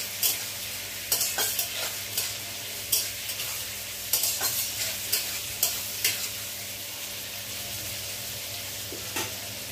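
Onions frying in ghee as birista for biryani, a steady close sizzle with repeated scraping stir strokes of a spatula across the pan.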